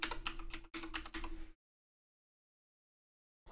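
Rapid typing on a computer keyboard while entering a username and password, a dense run of close key clicks broken by one short pause, then a long silence before a few more keystrokes at the very end.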